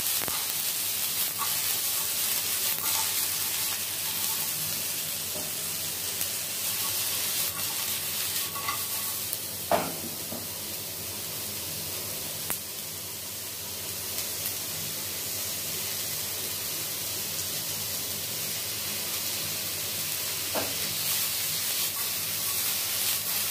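Vegetables seasoned with salt and pepper cook gently in a pan, giving a steady soft sizzle with occasional stirring scrapes and a couple of sharper utensil clicks, continuous and fairly close with no voices.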